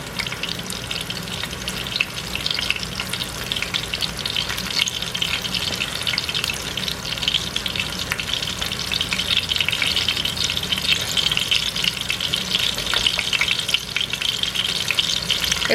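Large chicken breasts sear and sizzle in a hot pan on the stove, a steady, loud frying crackle running unbroken throughout with no voices.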